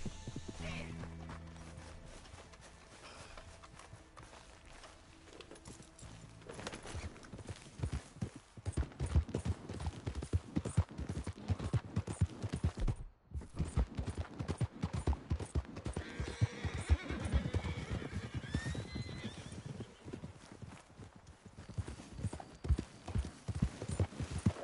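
Horse hooves in the Red Dead Redemption 2 video game drum out a fast, steady clip-clop rhythm, quiet at first and then louder and continuous for most of the span, with a brief gap midway and occasional voices.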